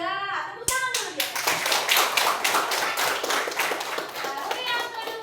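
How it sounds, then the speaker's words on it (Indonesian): A classroom of schoolchildren claps hands together in a quick, rhythmic burst of sharp taps, loud and close, with young voices mixed in. "Tepuk tangan dulu ya."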